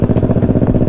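A heavy motorcycle's engine runs close by with a steady, fast pulsing throb and some mechanical clatter, loud and without talk, on a downhill road.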